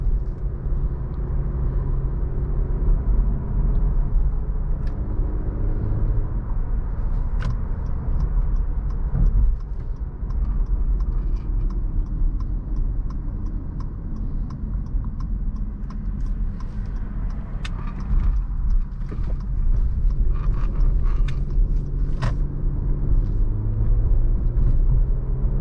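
A 2018 Acura TLX with a nine-speed automatic transmission, heard from inside while driving: a continuous low engine and road rumble with gentle rises and dips, plus faint ticks, and no voices.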